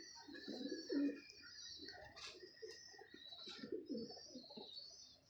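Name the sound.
pigeons cooing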